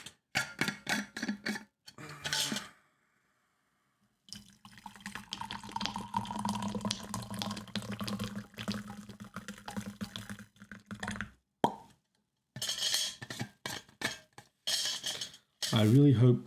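Tea poured into a cup at a desk: a steady, trickling pour lasting several seconds, with a person speaking before and after it.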